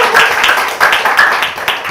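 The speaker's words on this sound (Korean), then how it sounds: "여러분 다시 한번 박수 부탁드립니다." Audience applause at a seminar, steady dense clapping from a crowd throughout, fairly loud and close.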